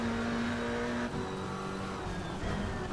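A McLaren GT4 race car engine at Spa in Assetto Corsa Competizione drones steadily and loudly, holding a sustained tone before a gear change midway, with tire and road noise underneath throughout.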